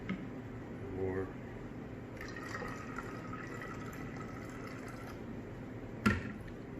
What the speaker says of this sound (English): we'll pour some in here, right in there with the apple cider vinegar